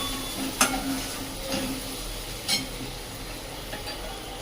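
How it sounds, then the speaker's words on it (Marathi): Chopped onion is sautéed in a pan, with a constant low sizzle and a few separate spatula scrapes and clinks close by, and no talk over it. "अशा प्रकारे कांदा परतो परततोय"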